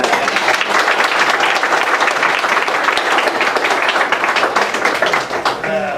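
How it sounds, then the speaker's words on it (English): After a cattle breeder seminar, the audience gives a dense, sustained round of applause, loud and continuous, easing off at the very end as a voice begins. "Can we give a round of applause?"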